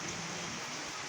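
Rain falling as a steady dense hiss outdoors, with no other sounds standing out over the brief span.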